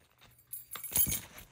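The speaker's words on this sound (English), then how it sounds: "Keys and car key." A bunch of house keys and a car key jangle briefly, a few soft metallic clinks and rattles close by that fade quickly.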